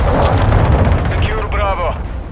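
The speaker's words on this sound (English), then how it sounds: "Hostiles launched a cruise missile." A cruise missile blast in a Modern Warfare II multiplayer match, heard as a dense, continuous rumbling roar that fills the whole stretch, with game voice lines running over it.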